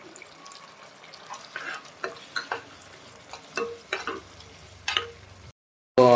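Tamarind puliyogare paste bubbling in a pan as a spoon stirs it, with soft scraping strokes and thick plops at irregular intervals, close and fairly quiet, ending in a brief silence.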